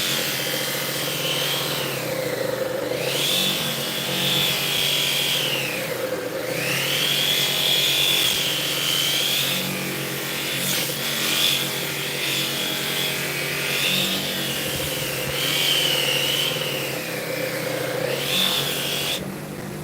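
Stainless steel is polished under pressure with a powered tool, making a continuous loud whine with a high squeal that swells and dips in slow cycles, with no speech.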